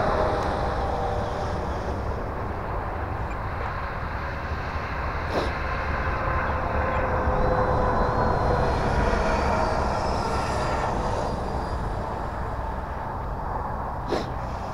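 An E-flite Viper 70mm electric ducted-fan RC jet on 6S power makes a steady, loud, continuous whooshing roar in flight. A faint whine shifts slightly in pitch, and the sound stays even across the whole stretch with no talk over it.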